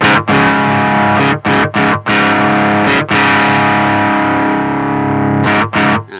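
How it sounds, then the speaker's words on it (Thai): Thick, saturated distortion from a BOSS ME-25 multi-effects unit on electric guitar, loud sustained chords broken by several short choppy gaps and restrikes, with no talking. "เห็นไหมครับ เป็น distortion นะครับ"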